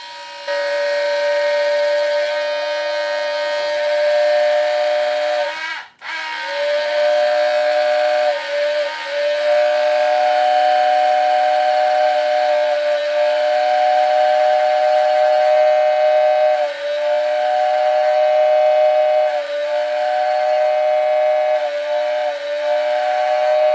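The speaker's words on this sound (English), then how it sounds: "It's a whistling billboard." A model railway whistling billboard accessory sounds a steady, close steam-whistle tone that holds for about twenty seconds, broken once by a short dropout and a few small wavers.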